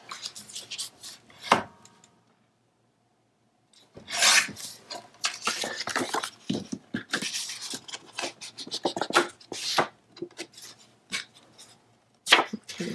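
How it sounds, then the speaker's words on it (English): Paper being trimmed for a scrapbook page, with close, dry scraping and cutting strokes in irregular bursts separated by short pauses, and no talking. "I think I probably need to trim this just a little bit more."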